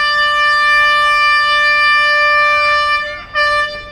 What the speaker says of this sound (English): that's the toy train's engine kicking up.